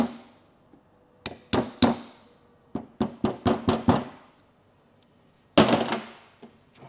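Sharp metallic taps from a hammer seating a CV boot clamp on a car axle, coming in irregular clusters of close knocks with short pauses between them, loud and near.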